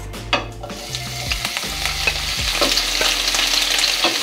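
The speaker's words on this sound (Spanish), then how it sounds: "En un sartén puse a calentar 2 cucharadas de aceite, que ya está caliente, y vamos a freír las salchichas." Sausages hitting hot oil in a skillet set off a bright, crackling sizzle that builds and holds steady, with a few clinks and bumps of the pan near the start and no talking.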